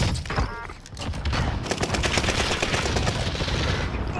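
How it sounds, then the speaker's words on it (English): Gunfire in Call of Duty Warzone on the Fortune's Keep map, a loud, dense barrage of overlapping automatic shots and explosions rolling continuously throughout. "Keep shooting them."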